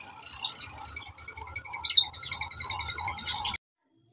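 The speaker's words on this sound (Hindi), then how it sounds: "आज का दिन हमने परिंदों के साथ गुजारा" Birds at a bird shop chirping and tweeting: a dense, close chorus of bright repeated calls overlapping continuously for a few seconds before stopping abruptly.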